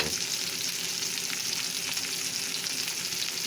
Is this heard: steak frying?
yes